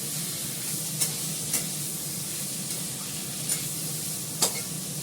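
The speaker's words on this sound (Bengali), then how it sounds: "এবার শাকটা দিয়ে দিচ্ছি, এর মধ্যে কাঁচা লঙ্কা দিয়ে দিয়েছি।" Leafy greens with green chilies sizzle in a pan on an induction cooker, giving a steady, close frying hiss. Occasional soft clinks of stirring punctuate the hiss, and there is no talk.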